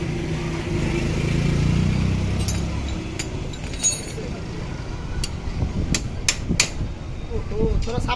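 Hammer blows strike a seized piston pin on a Hero Honda Splendor motorcycle engine, landing as sharp, irregular metallic knocks close by after a stretch of low voices and workshop rumble.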